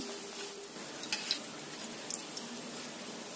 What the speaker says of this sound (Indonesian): Kemudian kita goreng yang selanjutnya ya.